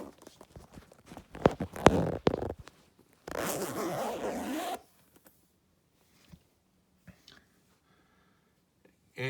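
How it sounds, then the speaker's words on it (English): Zipper on the bag of an Oreck XL2 40th Anniversary lightweight upright vacuum cleaner being zipped, a close, steady rasping pull lasting over a second, preceded by scattered handling clicks and followed by a few faint taps. "We'll unzip this back up."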